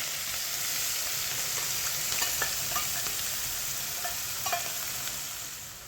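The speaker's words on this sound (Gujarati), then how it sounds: "અને હવે આપણે આને સરસ 1-2 મિનિટ સુધી સાતળી લેશું." Chopped green onions sauté in a pan, giving a steady, fairly quiet sizzle with a few soft stirring scrapes and light taps over about six seconds, with no talking.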